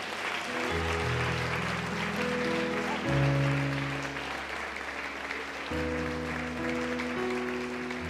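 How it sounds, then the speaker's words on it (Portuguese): A church congregation applauds during a sermon, broad clapping spread under sustained organ or keyboard chords that shift in steps. "Dá uma salva de palmas para o Senhor."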